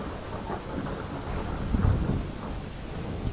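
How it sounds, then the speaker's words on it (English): Heavy torrential rain pours in a Skyrim game storm, a dense continuous roar with a low rumble of thunder swelling near the middle, loud and with no voices. "Absolutely torrential rain."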